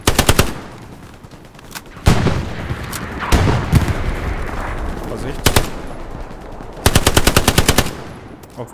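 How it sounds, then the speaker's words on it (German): Artillery and gunfire boom in the World War II shooter game Hell Let Loose during a German counterattack at Sainte Marie du Mont: loud bursts of rapid machine-gun fire and heavy impacts, alternating with quieter stretches. "Da kommt jetzt Artillerie drauf."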